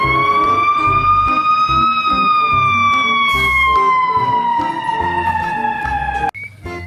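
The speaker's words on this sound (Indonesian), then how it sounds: "di sini ada mobil pemadam kebakaran" A toy fire engine's electronic siren wails loudly in a slow, steady sweep that rises and then falls, over a repeating tinny jingle, before cutting off abruptly near the end.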